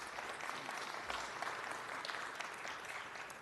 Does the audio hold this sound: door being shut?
no